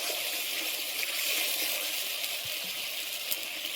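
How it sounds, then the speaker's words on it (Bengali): Water poured into fried masala of turmeric, coriander powder and salt in a pan, a steady broad rush and hiss lasting throughout with faint small clinks, close and fairly loud, no speech. "আমি জল দিয়ে দিচ্ছি, একটু পরিমাণে বেশি দিয়েছি"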